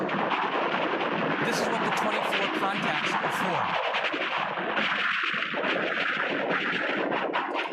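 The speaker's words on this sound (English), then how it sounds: "State-of-the-art neural interface, whether it's retinal or auditory, sounds like this." Harsh, crackling, heavily distorted rendering of music simulating hearing through a neural implant, a coarse buzzy wash where melody barely survives, with someone talking over part of it.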